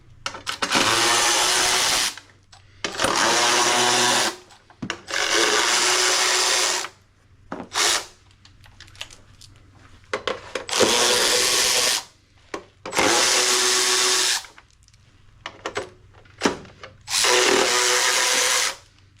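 A power drill spins out 3/8 bolts from the top cover of a zero-turn mower with a Briggs engine, loud whirring bursts of a couple of seconds each separated by short quiet gaps, close and repeated about seven times.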